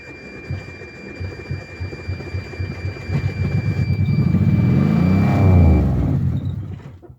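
A Geo Metro's small engine is revved at full throttle, climbing from a rough, pulsing idle into a loud, sustained high-rev roar that peaks and then cuts off abruptly.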